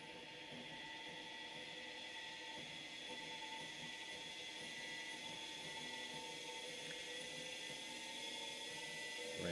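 An electric motor spins up toward about 3,000 RPM, giving a faint, steady whine with high tonal hums that slowly build in level over several seconds.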